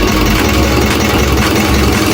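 A motor engine idles loudly and close, a dense continuous low rumble without pauses.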